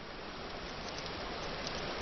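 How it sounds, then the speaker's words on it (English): Steady, dense rain falling in a dark video game world, a constant even hiss with no speech heard. "It is so dark because of the rain."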